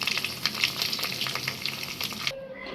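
Dense, crackling sizzle of korma pulao frying in a pan, with rhythmic stirring scrapes throughout before it cuts off abruptly near the end.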